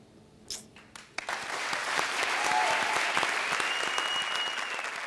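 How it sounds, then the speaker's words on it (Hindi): A television comedy show audience bursts into strong, sustained applause after a few isolated claps, building into a full, even roar of clapping that holds steady to the end. "तो सबसे पहले हमारे आज के सुपरस्टार किशोर के लिए जोरदार तालियां।"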